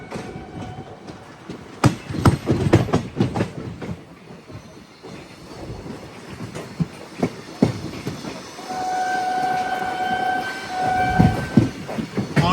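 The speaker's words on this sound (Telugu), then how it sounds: "హాంకింగ్ విన్నారా మన లోకోమోటివ్ది?" The locomotive of the Kakatiya Express out of Secunderabad sounds a loud sustained horn over rumbling, clattering carriages, with sharp clanks and rail noise throughout.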